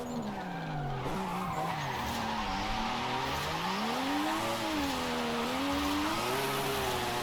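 A car skidding and spinning out under handbrake in Forza Horizon 5 played on a wheel, a continuous loud tire squeal that rises and falls in pitch over steady engine drone, with no talking.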